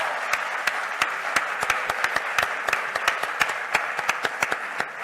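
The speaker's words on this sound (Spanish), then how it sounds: "Bueno, un aplauso, claro, primero." Audience at a gathering of children and adolescents with presidential candidates breaks into applause, a dense clapping texture punctuated by distinct loud individual claps, steady and close.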